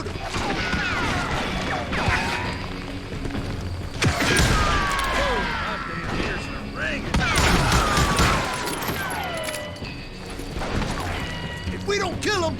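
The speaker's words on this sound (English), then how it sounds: "Who's shooting? We're under fire! Somebody shoot him!" Gunfire and crashing impacts fill a Wild West shootout in the video game Call of Juarez: Gunslinger, with repeated sharp shots in bursts and clattering debris, and voices shouting in the game beneath the action.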